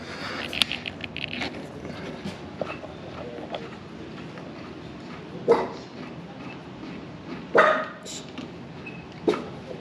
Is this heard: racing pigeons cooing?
no